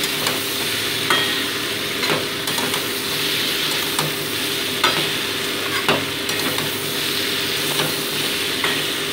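Chopped vegetables stir-fry in a pan with a constant hiss, broken by regular scraping clacks of a spatula against the pan every second or so; close and fairly loud, with no talking.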